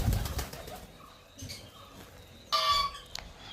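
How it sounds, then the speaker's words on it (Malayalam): Pigeons on a farm, with a few bursts of wing flapping and soft bird calls spread across a quiet background, one louder flurry of wings near the end. "അടുത്തത് ഒരു പ്രാവുകളാണ്."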